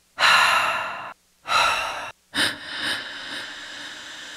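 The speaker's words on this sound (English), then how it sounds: "Here's some breaths that I have." Recorded breath samples play back for music production: three distinct, close, loud airy inhales or exhales, each about a second long, followed by a softer trailing breath.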